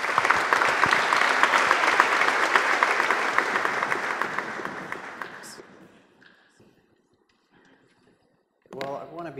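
A sustained round of audience applause welcomes a speaker at a talk, a dense clapping that fades out over several seconds before a voice begins speaking at the end.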